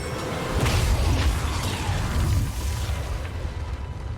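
A giant explosion in the video game XCOM 2 lands as a deep rumbling boom with a whooshing burst that swells, holds for a couple of seconds, then slowly fades into a low roar.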